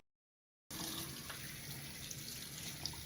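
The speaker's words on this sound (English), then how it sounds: "Now I will start to rinse off my hands, getting in between my fingers" Water runs steadily from a tap as hands are rinsed under it, a continuous close splashing hiss that starts abruptly after a brief silence and carries on alone.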